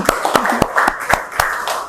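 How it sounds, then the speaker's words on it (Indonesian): A few people clap for a student named Arini in a classroom, with sharp, spaced, fairly close claps in a loose rhythm over a murmur of background voices. "Oke, ya tepuk tangan dong buat Arini."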